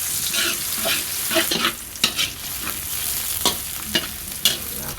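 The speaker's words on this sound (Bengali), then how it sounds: "পেঁয়াজ ভাজা হয়ে গেছে" Chopped onions and garam masala fry in a pan with a continuous sizzle, broken by repeated scraping stirs and sharp clinks of a utensil against the pan, heard close up and alone.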